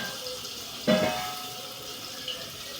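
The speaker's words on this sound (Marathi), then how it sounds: "आपण याच्यात पाणी नंतर आपल्याला लागेल तर आपण आधीच घालून घेऊ." Water poured into a pot of cooking eggplant and dal: a brief splashing pour near the start that quickly fades, followed by a faint background hiss.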